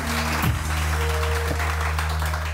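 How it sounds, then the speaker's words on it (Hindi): A studio audience applauds on a Pakistani morning talk show, steady dense clapping filling the whole stretch with faint tonal hum beneath. "बहुत सारी तालियां"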